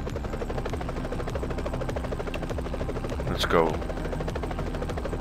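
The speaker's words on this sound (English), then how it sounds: "I wanna hear the helicopter" Helicopter in the PS5 game Pilot Flight Simulation, a steady rhythmic rotor chop and engine drone running throughout, with a brief whooshing sweep near the middle and a person speaking briefly over it.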